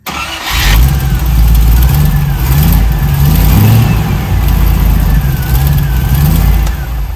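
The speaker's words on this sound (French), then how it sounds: "j'ai branché l'allumage et je vais démarrer" An MGB GT V8 race car starts up and settles into a loud, rumbling idle with slight revving swells, close and continuous throughout.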